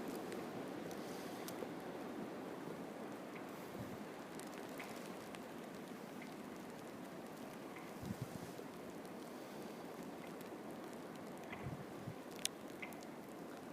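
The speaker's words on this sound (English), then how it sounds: "I don't know if you can hear the wind." Wind roaring outdoors during winter storm Jonas, a steady broadband rush with occasional faint gusts and light knocks, no talking.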